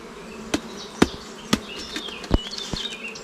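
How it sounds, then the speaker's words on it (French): Bees around an opened, smoked beehive nucleus during an artificial swarm check, with several sharp close clicks and knocks of hive handling over a faint steady buzz, no talking. "Il y a de l'abeille."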